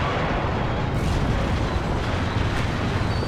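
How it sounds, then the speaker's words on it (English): A T-80 tank's ammunition cooking off in the video game WARNO: a dense, rumbling explosion with crackling bursts that holds loud and heavy throughout, with no speech. "Ammo explosion on the T-80."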